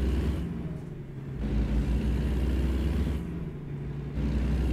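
Truck engine in American Truck Simulator running steadily while driving, a loud low rumble swelling and easing in a couple of waves, with no one speaking.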